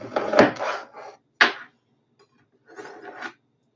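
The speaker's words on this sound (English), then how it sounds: "The carbide blades and this little sharpener are sharp enough to take, shards of metal off each time" Carbide knife blades are drawn through a small sharpener in a few short rasping strokes, close and fairly quiet, with brief pauses between them.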